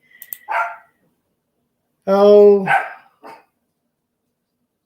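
A Yorkie named Mr. Willie barks loudly at close range, a few sharp yips followed by one long drawn bark, with a brief spoken word just before.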